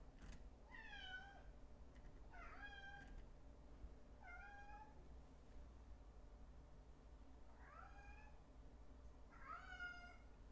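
A house cat meows repeatedly, five or so drawn-out, rising-and-falling cries spaced a second or two apart, fairly clear over a low steady background hum.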